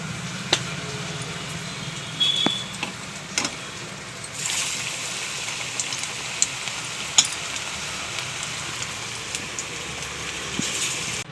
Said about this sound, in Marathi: याप्रमाणे आपण सर्व भजी तळून घेऊ।